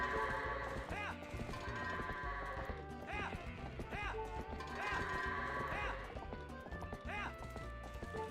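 Goats running in the video game Twilight Princess HD: quick hoof clatter and scattered bleats under steady, busy game music with recurring melodic swells.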